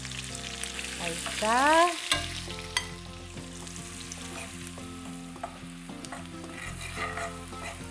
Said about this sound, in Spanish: Ahora vamos a freír la cebolla, que la vamos a poner arriba del spätzle